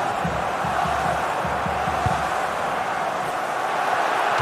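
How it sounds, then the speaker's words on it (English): Dense stadium crowd noise from a football video game, a steady broadband roar holding loud and even throughout with faint low chanting pulses early on. "The crowd are demanding just that little bit more effort."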